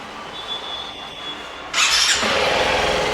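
A TVS Apache RTX 300 motorcycle engine is started: after a quiet idle-room hum, a sudden loud starter whir and catch settle into a close, steady engine running.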